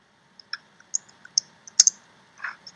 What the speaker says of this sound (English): I'm going to type it in the chat box.